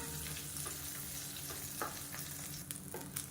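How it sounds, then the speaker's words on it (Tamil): Tamarind sautés in hot oil in a pan, giving a steady, quiet sizzle and crackle throughout with a few soft stirring scrapes. "இதையும் இந்த எண்ணெயில் வதக்கி எடுத்துக்கலாம்."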